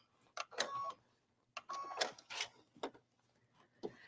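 A sewing machine stitches a strip of bias tape for a neckline, running in two longer bursts with a few short stops and restarts between them, close and clear with no talking.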